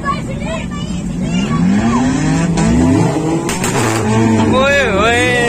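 A modified Honda City revs at an auto show in Lahore, a loud rising and falling engine note with squealing tones, continuous and close, under excited talk from people nearby.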